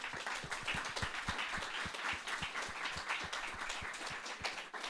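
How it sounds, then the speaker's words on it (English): An audience applauds Croatian Foreign Minister Gordan Grlić Radman at a dialogue event, with steady, moderately distant clapping that holds evenly throughout. "let's give Minister Radman another round of applause"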